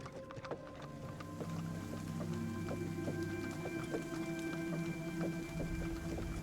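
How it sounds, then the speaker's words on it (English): A soundpad rain effect plays as a steady patter of drops, with faint tonal hums and scattered ticks running underneath, fairly quiet and unbroken. "it is raining at the moment"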